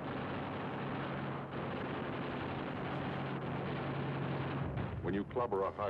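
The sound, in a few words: Thunderbolt fighter firing eight .50 calibre machine guns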